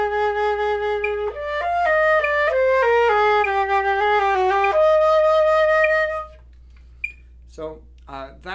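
A flute plays a Fürstenau etude passage in an eighth-then-sixteenth turn rhythm, clear close notes stepping in quick succession, followed by a pause and a few short breathy sounds.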